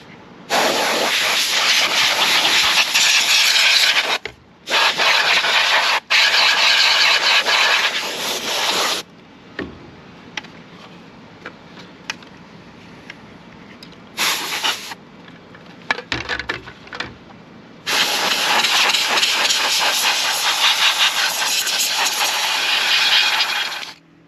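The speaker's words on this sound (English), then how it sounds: "So I'm gonna get the compressed air and we're gonna clean it out." Compressed air blasts dust out of an indoor electronic insect trap in an RV: long loud hissing bursts with brief gaps, quieter short puffs in the middle, then a sustained final blast, close up and without talk.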